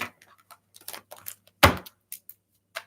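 Morgan Greer tarot cards flutter and snap in short riffling bursts as they are shuffled, one sharper slap in the middle, with quiet gaps between.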